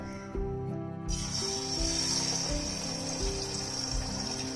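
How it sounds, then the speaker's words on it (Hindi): Chicken pieces drop into hot cooking oil and fry with a loud, steady sizzle and hiss that continues throughout, with no talking. "कुकिंग ऑयल हमारा गर्म हो गया है, इसके अंदर मैं ये चिकन पीस डालती हूँ और इसको हम करते हैं फ्राई"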